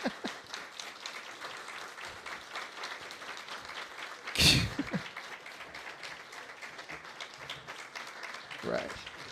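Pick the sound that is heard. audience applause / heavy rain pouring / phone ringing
audience applause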